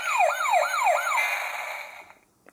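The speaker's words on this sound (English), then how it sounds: "you hear the siren and builder noise in there as well" A BoonBoomger DX toy axe plays an electronic siren effect: three quick rising-and-falling wails, then a steady electronic builder tone that fades out after about two seconds. The sound is close and clear, with no talking.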